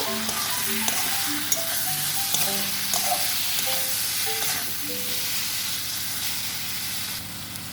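Ground cumin, coriander, Kashmiri chilli powder and a pinch of sugar frying in a pan for a Bengali tangra fish chorchori, stirred with a spatula: continuous close sizzle with scattered scraping clinks, fading slightly at the end, no talk.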